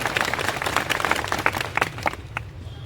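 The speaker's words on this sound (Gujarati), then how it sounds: "તાળીઓથી વધાવો" Applause greets a speaker at a farmers' rally: a dense burst of crowd clapping, lively and uneven, fading toward the end.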